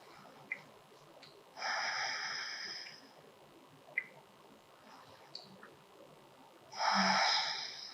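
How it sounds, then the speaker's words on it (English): Slow deep breaths taken while holding the yoga sphinx pose, two long airy exhalations several seconds apart, close and clear in a quiet room, with a few soft sniffs between them. "5 deep breaths here."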